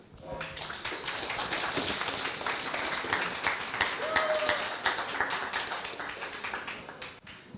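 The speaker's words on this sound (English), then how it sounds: "Big round of applause to him." Audience applause for a speaker at a talk on leadership and decision making: moderate clapping from a crowd at some distance, sustained for several seconds before tapering off.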